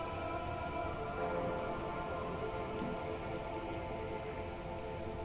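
Rain falls steadily on wooden boards and water in Disco Elysium, a continuous soft hiss of drops with a faint low rumble underneath and no voices.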